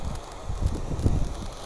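Strong wind blows outdoors during an evening firework session, producing low, uneven buffeting gusts that rumble steadily across the whole stretch with no voices.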